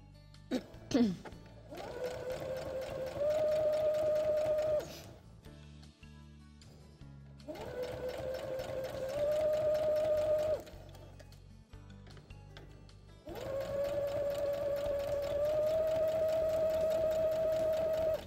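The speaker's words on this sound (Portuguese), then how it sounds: "Com sua máquina de costura, para que ele fique bem firme." A sewing machine stitches fabric for a butterfly-shaped coin purse, running in three steady whirring bursts with short pauses between them, close and clear.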